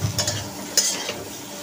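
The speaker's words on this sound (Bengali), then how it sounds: "এবার নাড়ি একটু" Spices stirred in a pan after turmeric, chili powder, and mixed coriander and cumin powder go in, giving a soft scraping stir with light sizzling underneath, a few brief strokes close by.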